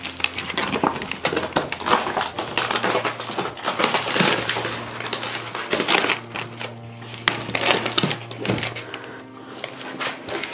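Cardboard packaging of a Poopsie Slime Unicorn toy torn open at its tab, a run of crinkly, crunchy rips and thuds handled up close, with a low steady hum underneath.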